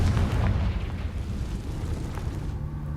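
A Confringo blasting curse in the Hogwarts Legacy video game erupts as a booming explosion that opens loud, then rumbles on and fades with scattered crackles, with no voices.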